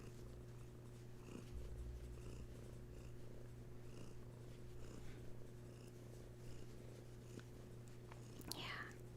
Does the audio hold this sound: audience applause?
no